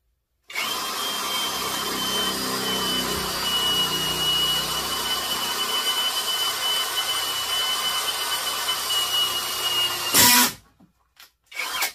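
A CAT power drill boring through metal at speed 2, a sustained whining grind for about ten seconds, then a sharp burst as the bit breaks through and touches the far side, followed by silence and a couple of short taps.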